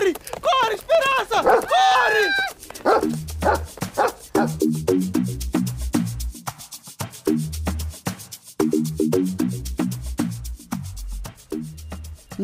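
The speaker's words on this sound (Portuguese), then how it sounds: "Um cão enorme!" A large dog barks in a rapid, rhythmic series of deep, loud woofs close by, following a brief stretch of excited voices at the start.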